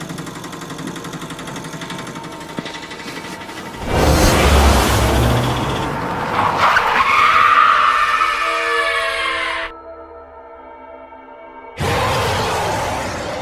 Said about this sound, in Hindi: रॉड गाड़ी को हवा में उड़ाने लगता है